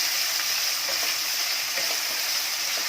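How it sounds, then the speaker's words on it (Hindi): Onions frying in hot oil for a rajma dish, a steady, bright, even sizzle throughout with faint occasional stirring, close and continuous. "तेल हमारा गरम हो गया। अब इसमें हम सबसे पहले प्याज डालेंगे और इनको अच्छे से भूनेंगे।"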